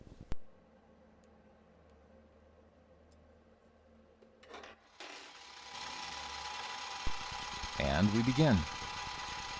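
A boring head cuts metal on a machining setup, beginning with a sharp click and then a steady mechanical whir with grinding, ratcheting texture. Someone speaks briefly at the start.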